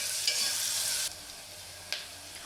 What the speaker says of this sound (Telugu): ఉల్లిపాయలు మంచి గోల్డెన్ బ్రౌన్ కలర్ వచ్చే వరకు ఫ్రై చేసుకోవాలి